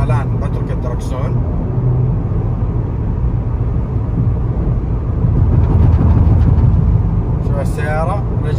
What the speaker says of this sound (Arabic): احنا الان على سرعه 140 والطريق خشن جدا، فتقييمكم للعزل الارضي، صوت الهواء